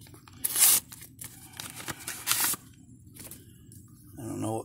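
A paper envelope of mail being torn open in two quick bright ripping bursts, followed by soft paper shuffling and handling, close by, with a person talking quietly at the end.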